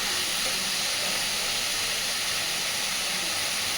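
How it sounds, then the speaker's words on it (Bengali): Spice paste frying in a pan for a pointed gourd kofta curry after a little water is added, a steady, dense hiss of sizzling that stays loud and unbroken throughout, with no voices. "মশলা যাতে পুড়ে না যায় দিয়ে দিচ্ছি অল্প একটু জল।"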